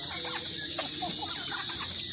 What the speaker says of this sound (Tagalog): Ang mga manok. Nakakalat.